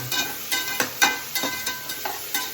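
Coriander frying in a pan for a homemade soup, a soft sizzle broken by a series of quick spoon scrapes and taps in an uneven rhythm, close up and with no voices.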